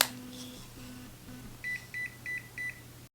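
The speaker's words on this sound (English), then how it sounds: "you'll hear 1 beep to know that the device is turned on and 3 beeps to know that the program has synced" A ZIP facial treatment device powering on for an eye-area 11-second treatment gives a clear electronic beep, followed by four short evenly spaced high beeps over a steady low hum.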